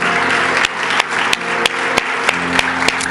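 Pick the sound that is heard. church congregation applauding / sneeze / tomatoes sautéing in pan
church congregation applauding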